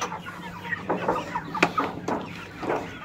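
Tiger chickens on a small farm cluck in short, repeated bursts, close and fairly loud, with a few sharper calls in quick succession.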